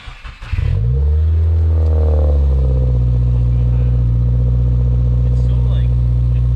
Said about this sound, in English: you guys will get to hear a sound clip of the new exhaust